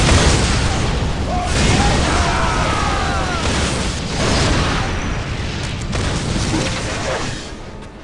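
Grenade explosions in the Warhammer 40,000: Dawn of War video game: loud, rolling booms and bursts layered over constant battle noise, with voiced unit lines heard alongside.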